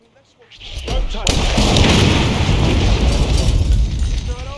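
In the video game Hitman, set in Colorado, an explosive detonates on a target with a sudden loud boom, followed by a sustained roaring rumble and crackling debris that fills the rest of the moment.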